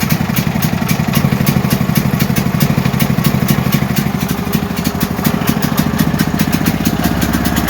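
A Duramax 8500 dual fuel generator runs on propane at normal speed, a loud, steady, close engine drone with a fast, even mechanical clatter throughout.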